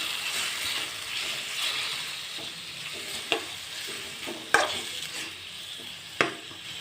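Chopped tomatoes cooking down in a pan for a red chili tomato pickle, a steady soft sizzle with a few sharp scrapes and knocks of the spoon as they are stirred.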